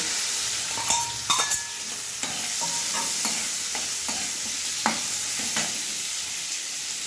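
Onions frying in oil with whole garam masala and a bay leaf, a steady hiss with scattered utensil scrapes and clinks across the stretch.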